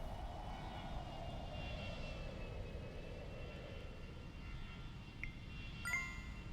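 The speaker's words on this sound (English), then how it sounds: "I can hear a plane. There it is." Faint, steady drone of an airplane flying overhead in the video game The Universim, a low engine hum that holds evenly throughout.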